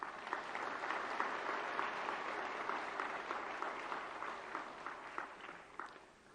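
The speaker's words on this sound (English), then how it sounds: "May I request all of you to welcome the President of India with a round of applause." An audience at a conference gives a round of applause welcoming the President of India, sustained even clapping from a large hall that gradually thins toward the end.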